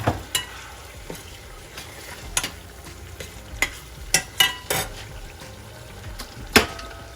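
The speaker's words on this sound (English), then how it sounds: "Now I'm gonna stir that on low." A spoon stirs seafood boil sauce with soy sauce in a pan on low heat, giving scattered soft clinks and scrapes over a faint simmer, with no talking.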